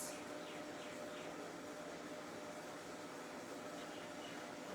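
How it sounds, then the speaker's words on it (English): Food fries quietly in a cooking appliance for a San Choy Bau dish, a steady faint sizzle and hiss held close to the microphone with no talking. "That is frying."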